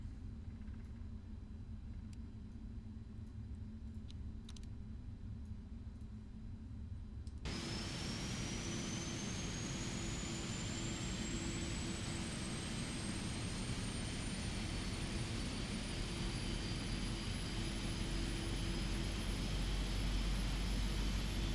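In a flight simulator, a PMDG 777F's jet engine spools up from a low cabin hum into a steady, rising turbine whine over a broad roaring rumble that holds and builds.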